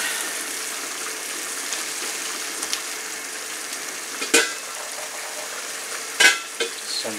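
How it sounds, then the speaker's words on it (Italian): Paella with shelled clams and mussels sizzles and fries in a pan while a spoon stirs it, a steady crackle broken by a few scraping strokes near the end. "quindi mettiamo quelle vongole e cozze che avevamo sgusciato, andiamo a mescolare."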